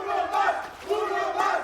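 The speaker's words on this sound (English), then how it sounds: "The chants from the crowd could not be more accurate." A large arena crowd at a Valorant esports match in the VCT Americas league chants in unison, with loud rhythmic swells and no voices speaking over it.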